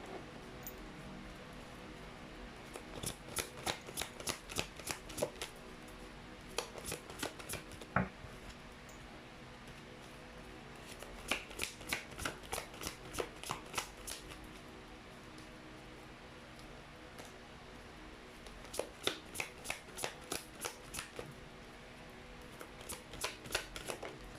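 Tarot cards being shuffled in repeated bursts of quick crisp riffling, several separate rounds with short quiet gaps between them, close and fairly quiet against a faint steady background hum.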